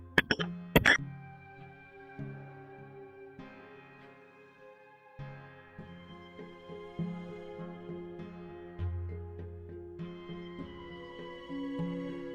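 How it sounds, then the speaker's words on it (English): Several sharp coughs burst out in quick succession near the start, loud and close over steady background game music that continues alone afterward. "Sorry, coughing."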